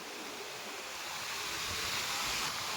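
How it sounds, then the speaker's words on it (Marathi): Water splashing in a village river as someone jumps in, a steady broadband wash of churned water with wind noise, fairly close and continuous with no talk over it. "पाणी काय उडलेलं"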